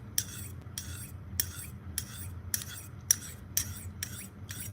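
A Shun kitchen knife edge is drawn across a sharpening stone in about eight even, rhythmic strokes, each a crisp raspy scrape, close and fairly quiet with no talking.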